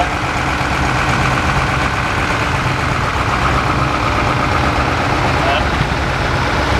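An Oliver Rooftop 88 diesel tractor idles at a small drag street event in Cashtown, PA, giving a steady, loud, low engine drone that runs unbroken throughout.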